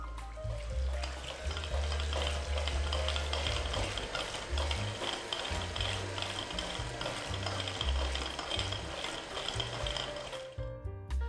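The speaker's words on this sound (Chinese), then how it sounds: "然后用打蛋器先开低速，防止材料飞溅，然后开高速持续打发" An electric egg beater whips egg whites with sugar, giving a steady close whirring buzz with rattling beaters against the bowl that continues for several seconds and then stops.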